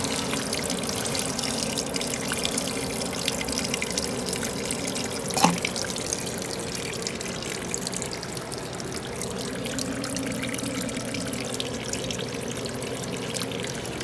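Water pours and trickles steadily through a supermarket refrigeration case drain, a continuous close wash of flowing liquid with one brief knock partway through.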